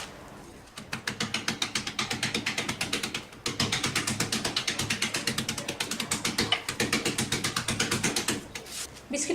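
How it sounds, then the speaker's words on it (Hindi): Four Oreo biscuits are crushed inside a zip pouch, giving a rapid run of crisp crackling crunches in steady bursts that pause briefly before continuing. "अब हम इसे निकालेंगे और इसे इस जिप पाउच में डाल के इसे हम हल्के से क्रश कर लेंगे।"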